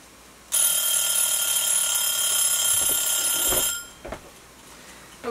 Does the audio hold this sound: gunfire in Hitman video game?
no